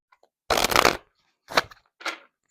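Oracle cards are shuffled in three quick riffling bursts, the first longest and the next two shorter, close and crisp against near silence.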